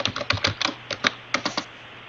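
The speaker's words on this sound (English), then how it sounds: "I'm going to go ahead and hit enter" Computer keyboard keys are tapped in a quick, irregular run of about a dozen crisp clicks at close range, with no voices.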